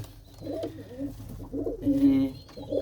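Pigeons in a loft give repeated soft, throaty coos, close and fairly clear, in a rolling rhythm of overlapping calls.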